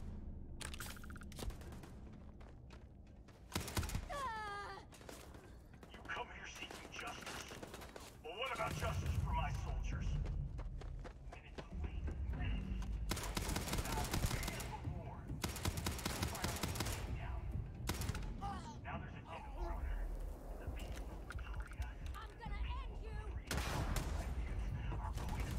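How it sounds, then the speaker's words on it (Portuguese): Rapid gunfire and explosions crackle through a firefight in the video game Starfield, bursts repeating loudly across the scene with a voice talking over parts of it. "Quem é que tá atirando em mim?"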